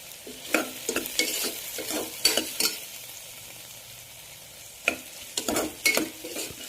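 Onions frying in oil in a pressure cooker, a steady soft sizzle under repeated scraping stirs of a spatula against the metal pot, close and without talk.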